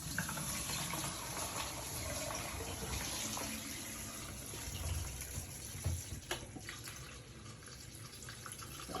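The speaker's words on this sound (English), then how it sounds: "Then now I'm going to be washing it. I will sieve the water out of it." Water running and splashing as soaked yellow corn is washed and the water sieved off, a continuous faint gushing and swishing with occasional knocks.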